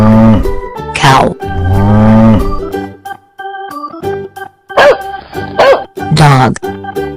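A cartoon cow moos in a children's animated animal sequence, with several drawn-out tonal calls over a bed of bright music.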